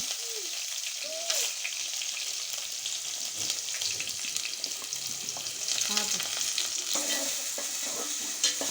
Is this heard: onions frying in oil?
yes